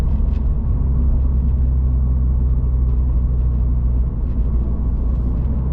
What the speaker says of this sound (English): Very rowdy car, right? Makes it very rowdy.